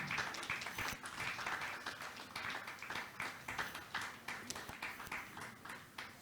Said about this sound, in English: A big round of applause for this lovely, wonderful creation by Shovana Narayan and Geetika Kalha.